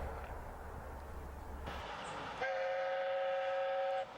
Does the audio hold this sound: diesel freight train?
yes